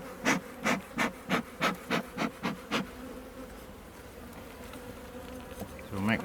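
Honeybees in an open brown hive during an inspection; a run of about ten rapid, evenly spaced pulsing bursts stands out at first, then a softer, steady buzz and hum continues, close by and fairly quiet.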